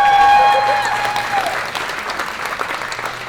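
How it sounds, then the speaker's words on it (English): Wedding guests applaud the groomsmen in a loud, dense round of clapping that starts strong and tapers gradually. "Round of applause for the groomsmen."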